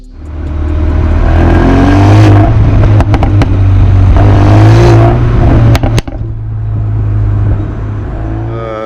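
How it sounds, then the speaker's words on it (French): A Mercedes-AMG A 35 4MATIC with its performance exhaust valves open, loud engine revving and pulling through the gears, with several sharp exhaust pops and crackles on the shifts before the note settles back into a steady drone. "les clapets s'ouvrent dans l'échappement et permet justement de pétarader lors des passages de rapport"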